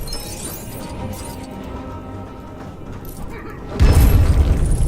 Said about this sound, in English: apparently there's more stuff needs to explode